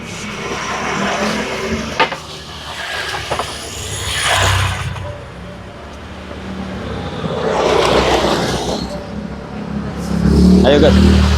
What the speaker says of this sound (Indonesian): motor, mobil lalu lalang tuh kan kencang-kencang itu.